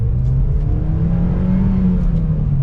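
A 2015 Mazda MX-5 Miata engine revs steadily as it accelerates, with a strong low drone and slight pitch rise, loud and close, with no one speaking.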